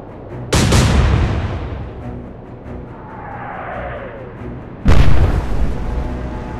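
Naval gunfire in the Royal Navy Battle of the Atlantic video game Atlantic Fleet: two heavy, booming cannon blasts a few seconds apart, each with a rumbling tail, and a faint whistling sweep between them.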